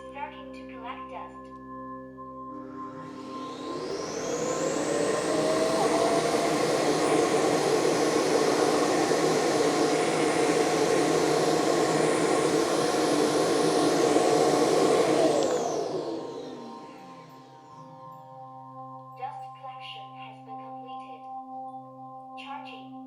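An AIRROBO T10+ robot vacuum cleaner's docking station kicks in with a loud, steady whoosh of suction that holds for about ten seconds, then winds down, with quieter machine hum before and after.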